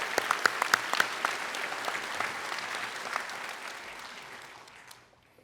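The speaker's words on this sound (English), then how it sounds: "Please join me in applauding our Board of Regents." An audience at a university ceremony applauds the Board of Regents; a crowd's clapping, with some crisp nearby claps at first, gradually tapers off and fades out.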